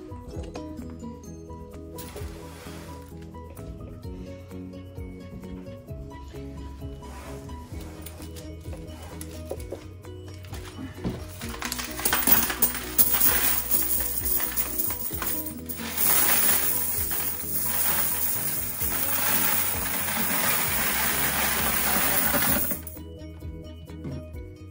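Candy pouring from a cookie jar into a 3.5 gallon bucket, a long rattling, clinking cascade of small pieces that swells in the middle and stops near the end, with soft talk underneath.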